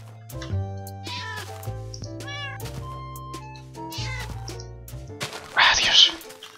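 Cat meowing in a Minecraft-style blocky video game, several drawn-out meows spaced over steady game background tones, with a louder burst of noise near the end.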